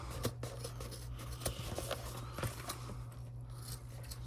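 A few crisp snips of scissors cutting through fabric binding, close up and spaced irregularly over a low steady background hum.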